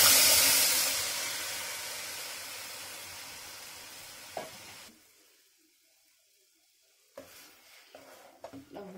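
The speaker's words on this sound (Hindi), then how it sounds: "अब इसमें टमाटर प्यूरी को डाल देंगे।" Tomato puree with turmeric and chili hitting hot oil in a pan for homemade tomato sauce, a loud hissing sizzle that gradually fades, then stops, followed by a few faint clinks and stirring sounds.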